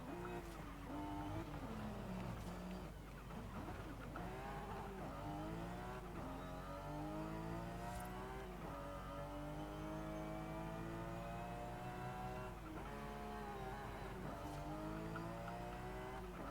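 A car engine in the Forza Horizon 5 racing game revs and shifts with smooth rising and falling tones, a steady synthetic drone with occasional tire squeal, fairly quiet and without talk.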